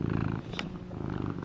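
A contented house cat purrs close by, a soft steady rumbling rhythm that continues throughout with no voices over it.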